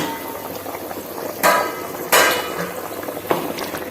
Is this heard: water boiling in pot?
yes